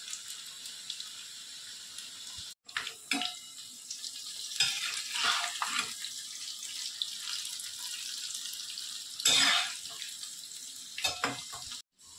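Potatoes deep-frying in hot oil for potato bhaji, a continuous crackling sizzle with occasional bursts and stirring clatter, close, no talking.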